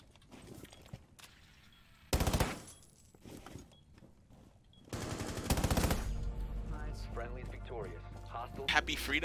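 Bursts of AA-12 automatic shotgun fire in a first-person shooter round, two loud rapid volleys, the second running into a longer stretch of sustained gunfire and game effects, with a voice talking intermittently.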